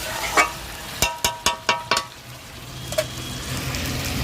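Meat and tomatoes frying in a pan, with a steady close sizzle and a quick series of sharp spatula scrapes and knocks against the pan partway through.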